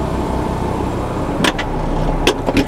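Engine of a KTM X-Bow GT-XR street-legal race car idles steadily and close while the canopy closes, with a few short mechanical clunks and thuds near the end over the constant engine rumble.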